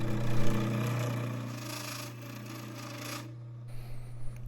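A blade cuts spinning acrylic on a lathe, making a continuous close rasping, rubbing scrape over a steady motor hum for several seconds before the cut eases off.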